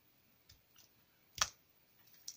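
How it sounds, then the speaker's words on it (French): Scissors snipping a jewelry wire cable for a bracelet, a few small soft clicks followed by one sharp cut near the middle, close and quiet. "je vais couper tout de suite mon câble. Alors moi, je le fais avec des ciseaux"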